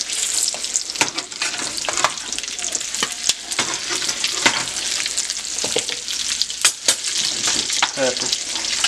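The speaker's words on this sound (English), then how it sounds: "Bacon's still cooking." Bacon crackles and sizzles in a pan, a dense close hiss broken by sharp pops and spits throughout.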